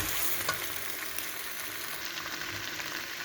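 Potato chunks fry with tomato paste in a pan for soup, a constant dense sizzle and crackle with a faint stirring scrape, close and steady throughout.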